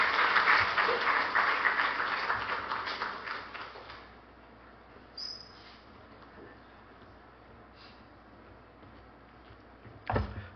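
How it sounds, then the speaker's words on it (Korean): A church congregation claps during an anniversary worship service, the applause loud at first and then thinning and fading over several seconds, leaving a quiet room broken by a few soft knocks and one sharp late sound. "하나님께 영광의 박수 올려주시기 바랍니다."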